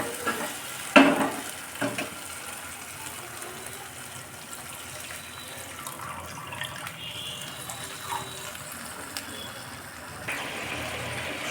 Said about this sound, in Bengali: ভাজা হয়েছে, তেল বেরিয়ে আসছে, এখন পরিমাণ মতো জল দিয়ে দিব।